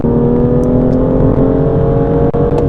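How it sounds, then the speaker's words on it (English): A BMW M2 engine blips and holds a steady, loud drone as it rev-matches on a downshift, heard close up and alone without talk. "Downshift, and it rev matches as well"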